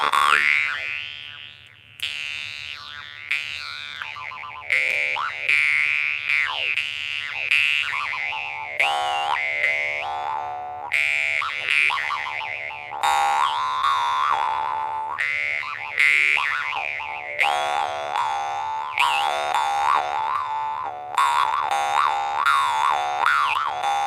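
A jaw harp twangs in a continuous run of wobbly, boinging notes over a steady low drone, its pitch bending and wah-ing into croaky, burbling shapes, played alone and fairly close.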